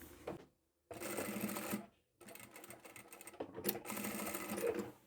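Sewing machine stitching diagonally across a quilt corner in quick bursts: a steady rapid mechanical whir in three runs separated by short pauses, close and fairly quiet, with no talk.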